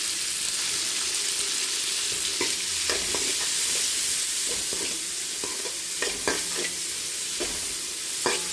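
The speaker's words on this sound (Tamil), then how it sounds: "பூண்டு போட்டுக்கலாம், கருவேப்பிலை போட்டுக்கலாம், வதக்கிடலாம்" Garlic, curry leaves and tomato sautéing in a pan for sambar with chayote and brinjal. A continuous sizzle is broken by sharp spatula scrapes and clatters against the pan at an irregular pace.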